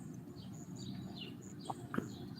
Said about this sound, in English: you can hear the bird song.